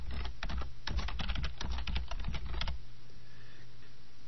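Rapid bursts of typing on a computer keyboard as a file name is entered, close and crisp, fading to quiet room tone after a few seconds.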